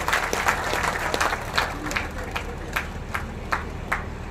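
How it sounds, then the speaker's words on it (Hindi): A crowd at an outdoor election rally for Diya Kumari claps in welcome, a steady spread of applause with sharper individual claps standing out, fairly loud and continuous. "एक बार ताली बजा के स्वागत करो।"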